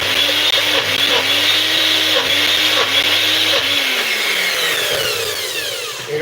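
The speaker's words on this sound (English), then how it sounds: "blend the beans first, blend it first before you start adding other things, so that you make sure you've got it right. See, put it inside the blender" An electric blender grinds beans for akara, its motor whirring loudly up close and labouring as the thick batter shifts the pitch, with no talk over it.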